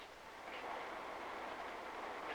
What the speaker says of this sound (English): Most of the people commute to work from the suburbs by trains made in Japan